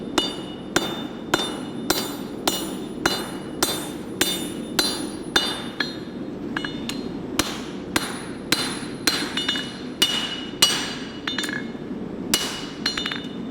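A steady series of ringing hammer strikes flattens a knife blade on an anvil, about twenty blows in regular rhythm with a few brief gaps, close and clear.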